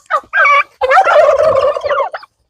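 Giant turkeys on a farm in Roi Et gobble loudly and close by, a short burst followed by a longer rattling, warbling gobble with no talk over it.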